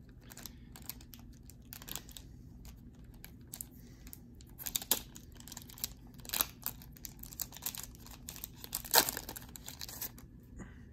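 A Digimon card booster pack is torn open up close, a series of sharp crinkling foil rips and crackles scattered over a quiet background, with no talking.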